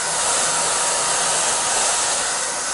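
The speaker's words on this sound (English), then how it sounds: "my mama has to warm me with a dryer every day" A handheld hair dryer blows steadily and loudly for the whole stretch, warming a small dog indoors on a cold winter day in Michigan, a constant close whoosh with no talking.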